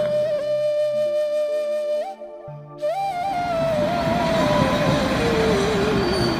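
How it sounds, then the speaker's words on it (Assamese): Train pulling away from a city platform, wheels squealing in long high, bending tones that shift in pitch, loud and near, with rumbling rail noise building toward the end. "ট্ৰেইন এৰি যোৱা প্লেটফৰ্ম"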